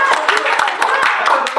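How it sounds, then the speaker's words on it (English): Brief burst of hand clapping from a small group, quick irregular claps lasting under two seconds. "can we give a round of applause for your friends here?"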